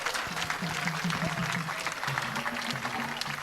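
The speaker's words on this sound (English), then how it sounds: "Well, the applause should be louder," Audience clapping at a Ghanaian National Sanitation Day relaunch, a dense, even patter of many hands held at a constant level while a voice talks over it.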